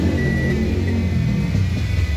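Steady, loud engine rumble from a Toyota Yaris/Vios held at 2000 RPM during an oil flush, with rough running and a suspected sludged oil fault, droning evenly and close with no talk.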